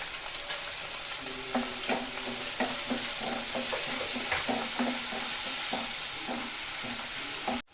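Chopped tomatoes fry in hot oil in a pan for a koi fish curry, giving a steady, close sizzle broken by soft scraping and stirring taps, with no one talking.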